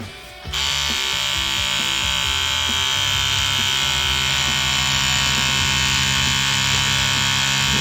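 An electric tattoo machine starts up and then buzzes steadily and loudly at close range, a constant high-pitched mechanical whine that holds without a break.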